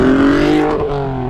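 A close, loud 3.2-litre VR6 engine in a second-generation Audi TT holds high revs and then drops in pitch as the throttle eases off, smooth and throaty.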